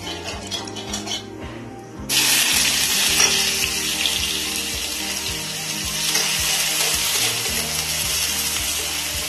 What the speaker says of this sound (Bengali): পেঁয়াজটা নরম হওয়া অবধি আমি নাড়তে থাকবো।